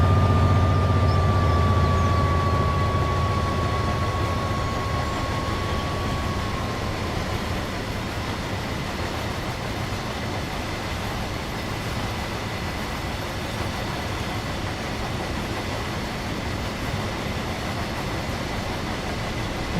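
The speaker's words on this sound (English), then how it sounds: "This is definitely one lengthy rake of DB wagons we've got going on here." A long freight train of DB wagons hauled by a Class 66 locomotive rolls past in Train Sim World 3, a steady loud rumble of wheels lasting throughout, with a fading tonal whine early on and no voices.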